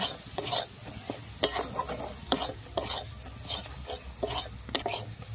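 Spice paste with chili powder is stir-fried in oil in a pan for a prawn and kochur loti dish. A constant close sizzle runs under repeated rhythmic scraping strokes of the spoon, and no one talks.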